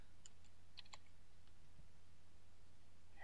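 Typing a search for "low carb" on a computer keyboard: a few quiet, scattered key clicks in the first second over a low steady hum, then near silence.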